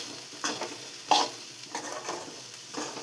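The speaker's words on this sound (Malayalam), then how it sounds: "നല്ലോണം ഇളക്കുക. ഇളക്കി ഇങ്ങനെ കൊടുത്തിട്ട് മസാല എല്ലാത്തിനും പിടിക്കുക." A spoon stirs okra thoran coated in masala in a pan, making several distinct scraping strokes over a light sizzle. The sound is close and moderately quiet, with no voices.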